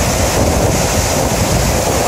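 Loud, constant roar of rushing water at the foot of the Jean-Larose waterfall near Quebec City, with broadband noise and wind buffeting the microphone, nearby and unbroken.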